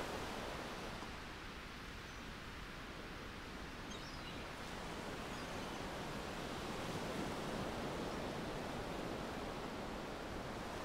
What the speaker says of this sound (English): The sound of the pebbles washing over each other is a gentle, shushing sound